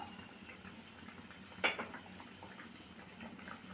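Egg kurma gravy bubbles in a pot, a faint low simmer with soft liquid pops and one brief louder splash midway.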